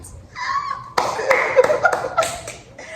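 A few people clap in a small room, with irregular sharp claps mixed with chuckling and voices in the background.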